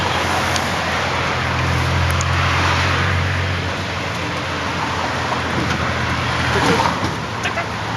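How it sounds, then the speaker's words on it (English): A tuk-tuk rides through early-morning Bangkok traffic, its engine drone running steadily under broad road noise and a hiss like rain or wet tires, with passing vehicles swelling and fading. "It's our first tuk-tuk ride in Bangkok."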